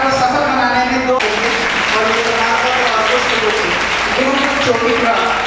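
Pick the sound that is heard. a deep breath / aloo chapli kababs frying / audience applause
audience applause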